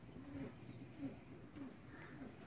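A pigeon coos softly at close range, several low rounded calls repeating roughly every half second, faint and unaccompanied by speech.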